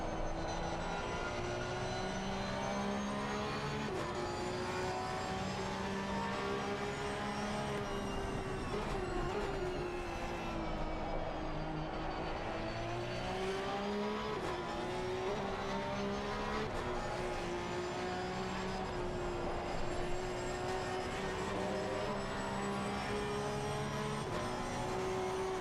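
Porsche Cup race car engine in a racing video game at Mount Panorama, a steady loud droning whine with shifting pitch that rises and falls through gear changes, continuous throughout with no talk.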